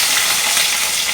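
Spices tempering in a hot kadai for sambar, mustard seeds with curry leaves and green chillies, a loud continuous sizzle and crackle heard up close.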